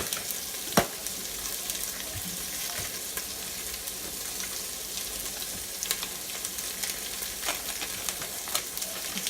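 Soy chorizo frying in a pan for a pot of black-eyed peas, a steady close sizzle with occasional crackles and a louder pop near the start, no voices.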